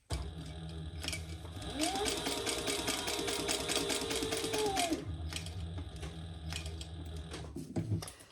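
A sewing machine stitching around a crossbody bag runs in a fast, steady mechanical patter for about three seconds, with faint handling clicks and shuffles before and after.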